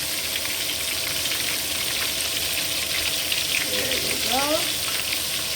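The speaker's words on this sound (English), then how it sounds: "So you just kind of fry them." Coated pork pieces fry in a pan of oil with a continuous, loud, crackling sizzle that holds steady throughout, while a voice speaks briefly over it.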